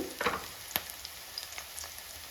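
Green chillies, onions and mint frying in a pan: a continuous hissing sizzle with a few close crackles and light spatters over a little more than two seconds.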